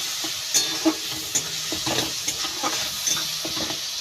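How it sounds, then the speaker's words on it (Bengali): Tomato fries in a pan for a cauliflower and potato curry, a steady sizzle punctuated by repeated scraping stirs and light clinks, moderately loud and close, with no voices. "তো এইভাবে ভালো করে একটু ভেজে নেব, তাহলে এর কাঁচা গন্ধটা চলে যাবে।"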